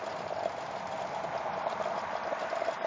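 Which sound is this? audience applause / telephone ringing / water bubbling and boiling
water bubbling and boiling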